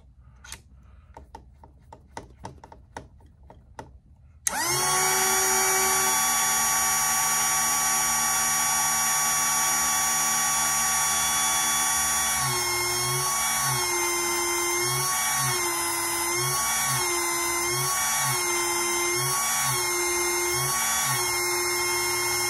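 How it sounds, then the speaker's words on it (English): A wheel truing machine trues a tire without polishing pads, starting after a few light clicks and then settling into a loud, sustained high-pitched whine that wavers rhythmically as the tire turns, close and with no talking. "I'm gonna true the next tire and not put the polishing pads on it"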